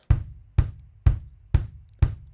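Five punchy kick drum hits at an even, quick tempo, dry and isolated with short decays.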